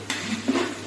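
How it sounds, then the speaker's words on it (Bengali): Onions frying in a pan give a brief, close burst of sizzling hiss, with a faint stir or clink partway through. "আপাতত আমরা পেঁয়াজ কীভাবে ভাজা হচ্ছে দেখি"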